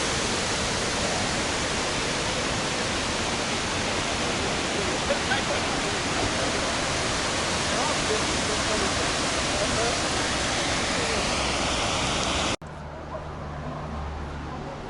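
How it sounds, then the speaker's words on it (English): Gibbon Falls rushing, a dense steady roar of falling water heard loud and close for most of the time before cutting abruptly to quieter ambient noise near the end. "Just enjoy the sound of that water."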